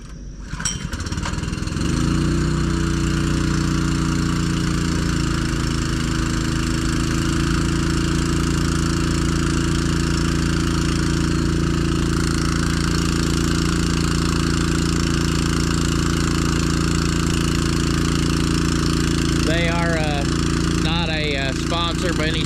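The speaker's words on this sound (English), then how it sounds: "the pump is run by a" A motor runs the pump on a Miller Liquid Feeds bulk tank for a farm, starting up and then droning loudly and steadily with a mechanical hum, while a voice comes in briefly near the end.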